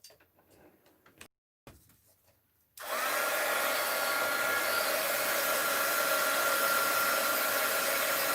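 A hair dryer roars steadily and loudly for more than five seconds, drying a mixed-media art journal page after a few quieter handling sounds.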